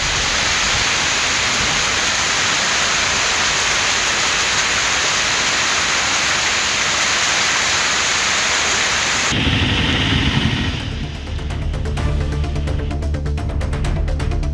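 Continuous moderate rain falls in Gudalur amid fog, a loud, even hiss that shifts abruptly near the end into a more tonal, rumbling texture, with no voices.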